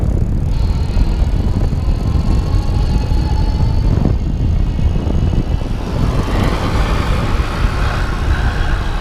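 Leisger MD5 electric bike ridden in throttle mode outdoors, giving a steady broadband rush of motor hum, tyre roar and wind that stays loud and even from start to finish, with no talking.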